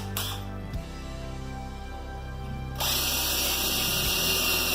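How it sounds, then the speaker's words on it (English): An electric drill runs continuously with a steady mechanical whir, shifting to a harsher, louder grind partway through as it bores in, close by. "I'm going to drill myself a center hole so the compass will stay in a"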